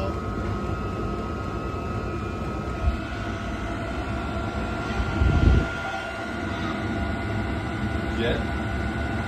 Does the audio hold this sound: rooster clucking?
no